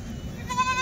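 A goat gives a short, clear bleat near the end at a livestock market, over a low murmur of background crowd noise.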